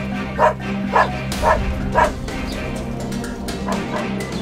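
A pack of cartoon dogs barks in a run of about four sharp evenly spaced woofs, followed by softer yips and whimpers, fairly close and without speech over them.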